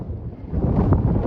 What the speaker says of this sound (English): I apologize because it's pretty windy right now. It's been windy all day today.